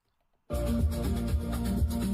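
Music begins abruptly after half a second of silence, a steady full-band song with a thumping low beat, playing loud and alone to the end.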